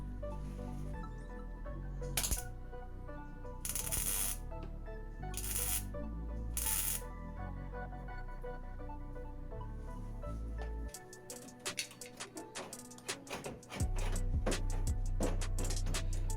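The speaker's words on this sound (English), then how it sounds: "So I'm going to tack that in place." A Clarke 160TE MIG welder tack welding a panel on a BMW E30 car body: several short, sharp crackling bursts, then a run of rapid clicking, with no talking.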